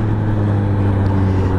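A Suzuki GSX-S750 motorcycle with a warm engine runs in a steady, loud, close droning hum under a rushing wash of wind noise.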